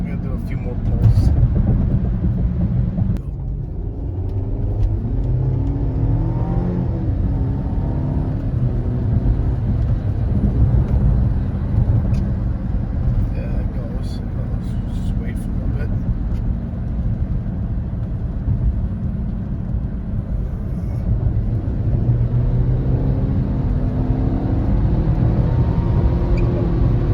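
A tuned Audi A6 C7.5 pulls hard from inside the cabin, engine and road noise rising and swelling steadily over a long stretch while someone talks throughout.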